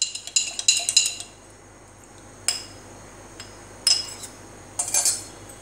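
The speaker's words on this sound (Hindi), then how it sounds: "इसे हम चम्मच से मिला देते हैं।" A metal spoon stirs a vitamin E capsule into homemade hair oil in a small container. Sharp clinks come close and clear in quick bursts, with short quiet gaps between them and no talking.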